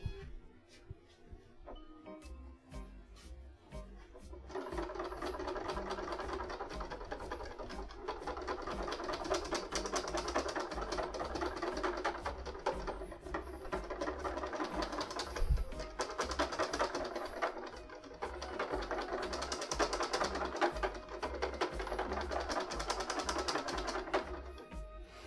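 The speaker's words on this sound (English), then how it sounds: "We're eventually going to whisk that to a solid, stiff peak." An electric mixer whisks a nougat mixture toward stiff peaks, a steady close, loud whirring buzz starting after a few seconds and running on without a break, with no talking.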